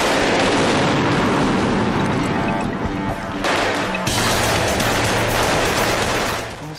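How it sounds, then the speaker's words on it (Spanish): Dense, loud gunfire and blasts fill a dramatized reenactment of the Entebbe hostage rescue raid, with rapid overlapping shots and bangs continuing almost without pause. "Disparaban por todas partes."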